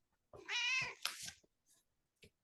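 A house cat meows close to the microphone during an evening neighborhood council board meeting, one long drawn-out meow followed by a shorter second call, then a few faint soft sounds in a quiet room.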